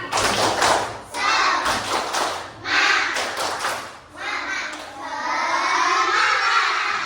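Classroom of fourth-grade pupils doing a rhythmic spirit clapping chant, bursts of patterned claps and shouted voices in several rounds, loud and close, with children's speech between.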